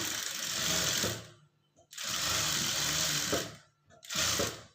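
A sewing machine stitches blouse cloth in three bursts of steady, loud, rapid mechanical whirring, separated by brief pauses with soft handling noises.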